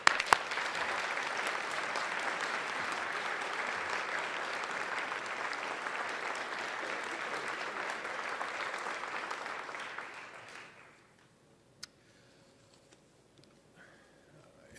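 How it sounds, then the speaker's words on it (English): A chamber of commerce gala audience gives a sustained round of applause, thick and even for about ten seconds before fading out into near silence, with a single faint tick afterward. "One more round of applause."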